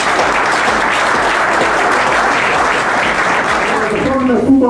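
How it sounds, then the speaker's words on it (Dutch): Dense, sustained applause from a crowd at a football club ceremony honouring long-standing members, loud and continuous throughout with a voice emerging at the end. "hartelijk applaus"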